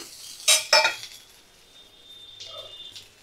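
Two sharp metal clinks of a utensil against a pan, then quieter scraping and a faint sizzle as spices, ginger-garlic paste, green chillies and tomato are stirred together.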